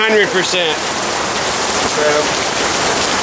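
Heavy rain falls in a backyard, a dense, loud, steady hiss of drops hitting surfaces. Brief voice-like sounds appear near the start.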